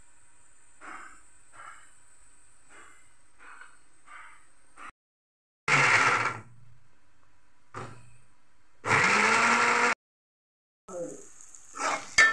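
A kitchen mixer grinder whirs in two short, loud bursts of about a second each, close by, with quieter tapping and kitchen clatter before and between the runs.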